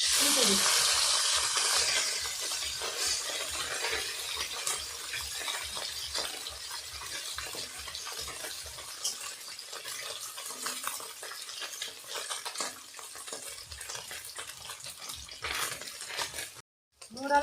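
Small mourala fish sizzle steadily in oil with continuous frying hiss and regular stirring scrapes, fairly close, before a brief drop near the end.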